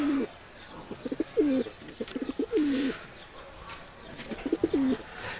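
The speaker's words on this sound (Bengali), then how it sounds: "দুইটা কবুতর" A pair of domestic pigeons coo close by, repeating soft throaty rolling phrases in short bursts with brief pauses between them.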